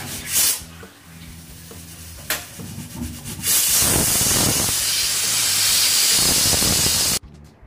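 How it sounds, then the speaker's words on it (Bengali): Steam hisses out of a pressure cooker as the whistle is lifted, a broad loud rush that starts in short bursts, then holds steady for several seconds before cutting off abruptly. "আমি বাঁশিটা উঁচু করে ধরে এভাবে কিছুক্ষণ ভাপটা বের করে রাখলে ঢাকনাটা খুব ইজিলি খোলা যায়।"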